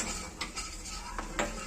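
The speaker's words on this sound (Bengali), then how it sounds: "দেবো একটু ময়দা, ময়দা দিয়ে নাড়াচাড়া করবো।" A utensil stirs flour into melted butter in a pan for a white pasta sauce, making a few quick, soft scraping clinks against the metal, close and quiet with no talking.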